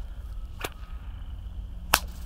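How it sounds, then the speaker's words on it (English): A bullwhip is cracked overhead twice, giving two sharp, loud snaps about a second and a quarter apart over a quiet background, with no talking. "And again, lazy overhead crack."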